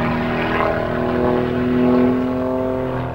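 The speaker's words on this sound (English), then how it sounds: "Purpose-built for unlimited aerobatic competitions, this aircraft has a high power-to-weight ratio, is built of carbon fiber materials," Giles G202 carbon-fibre aerobatic monoplane with propeller engine, a steady droning hum with strong tonal harmonics that swells slightly mid-way, continuous and fairly loud with no talk.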